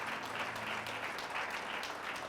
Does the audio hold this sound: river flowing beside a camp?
no